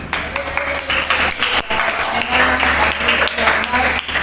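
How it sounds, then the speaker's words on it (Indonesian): Applause from an audience at an Islamic studies teaching assessment session, a steady patter of clapping for several seconds with a dip midway, heard alongside room noise and murmuring. "Tepuk tangan."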